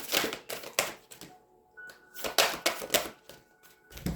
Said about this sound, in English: I'm just gonna pull a card for you from the Isis Oracle deck